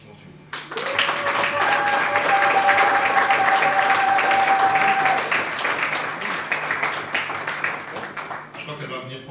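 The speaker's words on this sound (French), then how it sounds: "Sous vos applaudissements, s'il vous plaît" Audience applause at an award ceremony honoring a politics prize, sustained dense clapping that swells quickly and holds loud for several seconds before tapering, with a steady tonal hum beneath.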